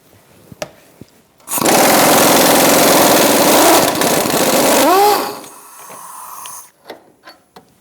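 An impact gun fitted with a 19mm socket hammers loose a front lower control arm bolt on a 2004-2009 Mazda 3, a loud, sustained rattling whine lasting several seconds and then winding down, with scattered tool clinks before and after.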